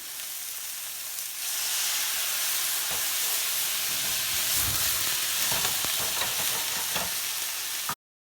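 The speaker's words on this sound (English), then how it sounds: "just doing a quick flambe" Steaks flambéed with brandy in a pan give a steady, close sizzle and hiss throughout, with a few soft pops and stirring clatters, ending abruptly.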